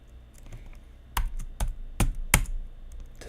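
Typing on a computer keyboard in a coding session, a handful of sharp, close key strikes coming in a short uneven burst after a quiet start.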